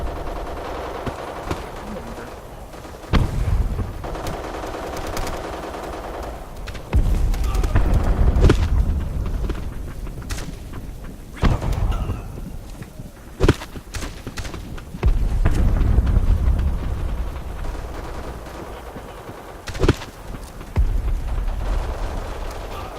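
Gunfire in the online shooter Black Squad, with repeated sharp shots and bursts scattered across a busy battle mix, some close and loud, others farther off, under a steady game background.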